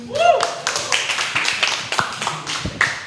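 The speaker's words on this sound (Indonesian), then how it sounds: "Oke, tepuk tangan lagi buat Abel." Studio audience clapping for Abel on a football talk show, a short burst of hand claps near and fairly loud, mixed with a voice talking over it.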